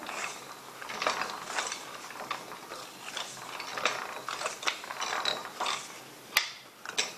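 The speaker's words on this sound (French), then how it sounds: "On tourne la manivelle, le clic il fait ça, il clique, hop, il avance un cran." A ratchet and pawl on the automatic feed crank of an old inertia drill clicks in a quick irregular run of small mechanical ticks, close and moderately loud, with one sharper snap near the end.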